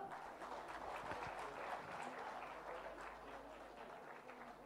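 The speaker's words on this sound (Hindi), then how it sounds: "तालियां" Crowd applause at a Jharkhand student award ceremony honoring top-ranked exam students, a dense steady clapping from many hands that carries on evenly throughout.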